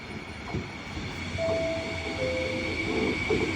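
Train arriving at Padova station in the evening: a steady rumble of railcars rolling along the platform, with high, thin wheel squeals drifting in, fairly loud and continuous with no talk over it.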